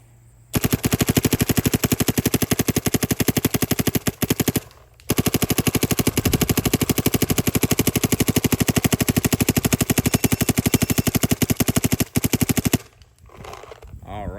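A Dye MXR paintball marker fires chilled Valken Pro paintballs in two long, loud, rapid-fire strings of sharp pops, close by, split by a brief pause and ending abruptly.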